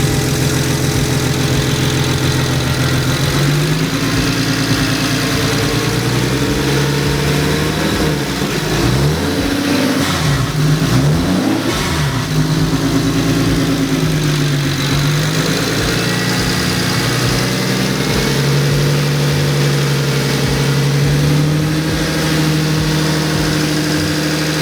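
A BMW 135i with a new motor and single turbo kit runs steadily for a long stretch, loud and close, its idle wavering with a few rises and dips in engine speed midway before settling again.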